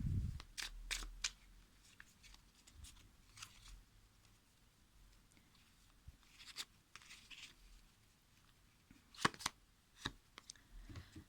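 Tarot cards being shuffled and handled during a reading: faint, scattered papery clicks and flicks in a quiet room, with a few sharper snaps near the end.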